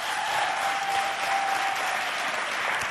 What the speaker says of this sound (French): Faites-le moi savoir en applaudissant encore bien fort s'il vous plaît.